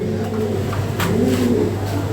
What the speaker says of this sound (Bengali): ব্রিডিং করতেছে কবুতর। হাই কোয়ালিটি এক পেয়ার কবুতর।